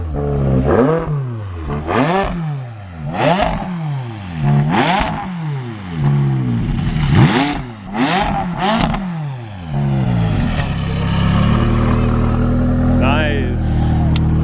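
Stage 2 tuned McLaren 570S V8 putting out 720 hp, revved repeatedly in sharp rising and falling blips, then settling into a steady loud idle close by, with voices talking over it.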